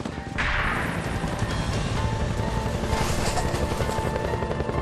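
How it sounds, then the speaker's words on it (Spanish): A helicopter appears suddenly and hovers close overhead in the mountains, its loud steady rotor thrum and engine roar filling the air continuously, with no voices. "de pronto escuchamos el sonido de un helicóptero"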